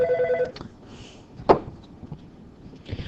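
A telephone rings in a classroom-style setting, a short electronic ring burst at the start followed by scattered knocks and handling noises, moderately close with no talking.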